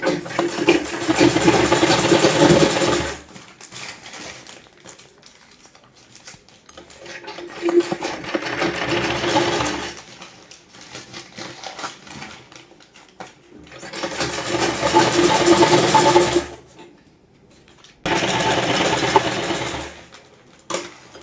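A sewing machine stitches a folded newspaper in four loud, close bursts of rapid whirring, each lasting a few seconds and separated by pauses of near silence.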